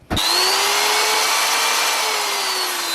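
An electric wood router, tested after its speed regulator was repaired, starts with a click and spins up almost instantly to a loud, steady high-pitched whine that holds evenly close by.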